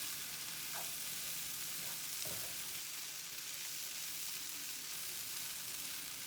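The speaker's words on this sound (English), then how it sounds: "Making sure I'm mixing it all together." Stuffing being stirred and mixed in a frying pan on a stovetop, a steady soft sizzle with faint scraping of the spoon through the filling, with no talking.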